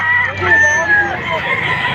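A rooster crows close by at a chicken sale in Padre Garcia, Batangas, a single drawn-out call with some clucking and a little background chatter.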